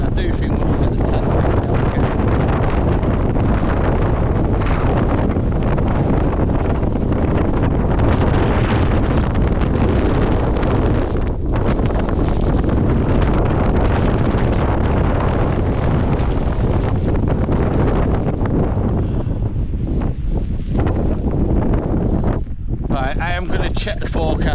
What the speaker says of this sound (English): I'm going to see if this is the worst of the wind or if it's going to get worse